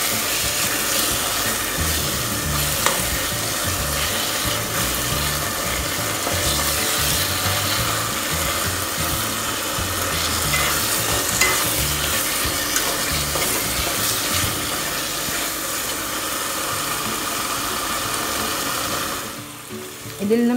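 A tomato and chicken mixture is stirred in a pot, giving continuous loud scraping and bubbling with a rough, uneven texture that stops briefly near the end.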